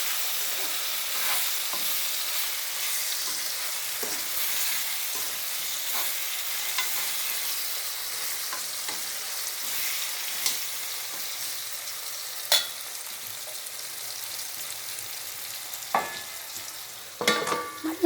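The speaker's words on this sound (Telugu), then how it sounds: "మళ్ళీ మూత పెట్టేసి కొంచెం సేపు మళ్ళీ వేగనిద్దామండి" Food frying in a covered pan on a home stove, a steady soft sizzle with scattered small pops and crackles, a few louder spits near the end, no voices.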